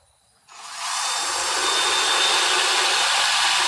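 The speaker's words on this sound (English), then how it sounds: "so you put in your drill" A power drill starts up and runs steadily with a high, even whine, loud and close, with no talking, while an arrow field point is being made.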